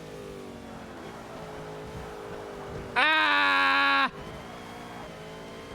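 A rival car's turbo spools up in the Forza Motorsport racing game, a loud, rising harmonic whine that lasts about a second over a steady engine drone, with a short exclamation nearby.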